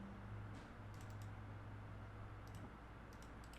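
A few soft clicks of the delete key on a computer keyboard, quiet and sparse, over a low steady hum.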